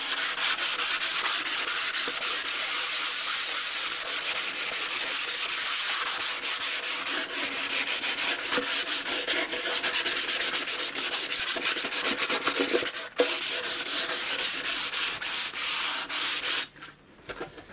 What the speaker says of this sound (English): So you want to just very lightly just chamfer the edges a tiny bit, so there's no hard, sharp edges on the instrument.